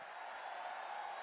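Arena crowd at WWE RAW clapping and cheering in a steady, even wash of applause, distant and fairly faint, with no voice on top.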